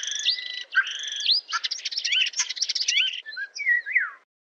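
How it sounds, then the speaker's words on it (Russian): A starling sings a lively, varied song of whistles, rapid chirps, rattles and sliding notes for a few seconds, close and clear with no other sounds behind it. "Скворец."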